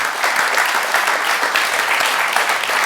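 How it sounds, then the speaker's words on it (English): An audience at a judo masterclass breaks into loud, sustained clapping, a steady dense patter with no break. "So give him a big round of applause."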